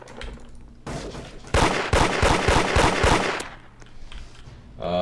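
Video game gunfire during an online raid: rapid automatic bursts ring out loud and close for about two seconds, preceded and followed by quieter scattered shots and ambient game noise.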